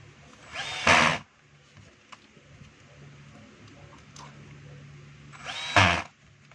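Power screwdriver driving a screw into a 4-inch DeWalt DWE8300S angle grinder during reassembly, two short whirring bursts several seconds apart with quiet workshop background between.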